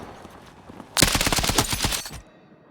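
A rifle in a video game firing range lets off one loud, rapid automatic burst of about a second, with the shots crackling evenly before the burst cuts off.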